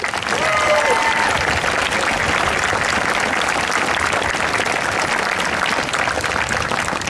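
An audience at a high school graduation ceremony applauds in a dense, even roar of clapping that holds steady throughout, with crowd voices blended underneath.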